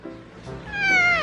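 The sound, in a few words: cat meowing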